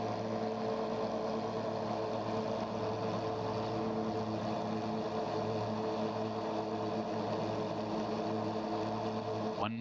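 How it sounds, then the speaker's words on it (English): Porsche 911 GT3 Cup racing engines in the Assetto Corsa sim at Circuit Assen drone and rev continuously as a dense, steady mechanical roar with no talk. "Drivers are revving."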